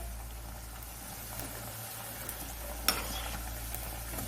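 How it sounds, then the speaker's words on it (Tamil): Medu vada frying in hot oil over a medium flame, a steady low sizzle running throughout with a faint clink near the middle, no voices. "நல்லா ரெண்டு பக்கமும் மிதமான தீயிலேயே நம்மளுடைய வடைகள் வேகட்டும்"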